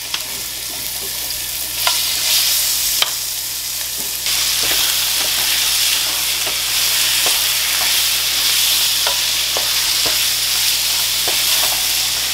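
Marinated chicken for butter chicken fries loudly in a pan, a steady close sizzle and hiss broken by occasional clicks and scrapes of stirring, with no voices over it.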